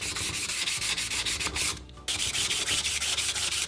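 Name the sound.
sanding a wooden surfboard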